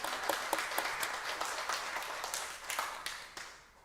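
A church congregation at a Sunday afternoon service gives a round of applause, a dense patter of many hands clapping at moderate distance that tapers off toward the end.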